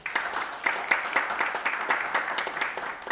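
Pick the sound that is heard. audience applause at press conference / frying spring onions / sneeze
audience applause at press conference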